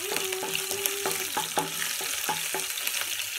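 Bitter gourd with chillies frying in a pan while being stirred, a dense steady sizzle overlaid by a quick series of regular scraping strokes, close and loud, nobody talking.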